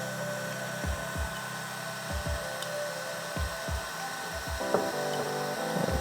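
Two very small screws are being fastened on the cooling fan of a Wanhao Duplicator i3 Plus 3D printer, giving quiet repeated ratcheting clicks in short bursts over a steady background hum.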